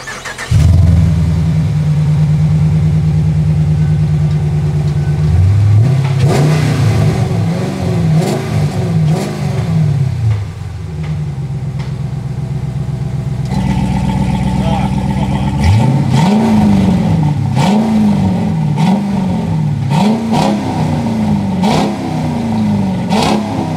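Dodge Challenger with a 5.7 litre V8 and valved exhaust, revved repeatedly from idle in loud, close blips that rise and fall, with a brief voice beforehand.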